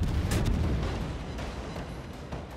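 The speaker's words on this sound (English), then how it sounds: "Torpedo hits on the Legao" Torpedo hits explode against a warship in a naval combat video game, with dense, rumbling booms and sharp bursts piling on top of each other across the whole stretch. There is no talking.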